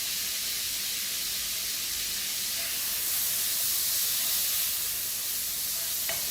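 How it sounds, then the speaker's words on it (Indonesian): Minced garlic sautéing with a little salt in a pan for bolognese sauce: a steady, close, even sizzle and hiss running the whole time with no breaks, and no talking. "Kita tumis bersama sedikit garam."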